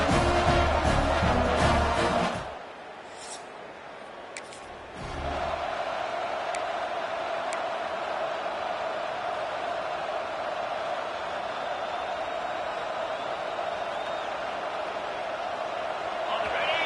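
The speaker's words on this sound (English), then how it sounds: "They challenge this crowd to bring the energy, and I'd say they're doing that." A stadium crowd in an EA Sports College Football game roars steadily for a long stretch, dipping briefly near the start before resuming, with commentators talking over the noise.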